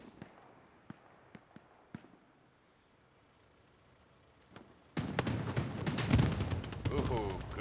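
A rocket is fired in a multiplayer shooter match on a RAGE server: faint scattered pops and thuds, then a sudden loud sustained burst of blasts and crackling from about five seconds on.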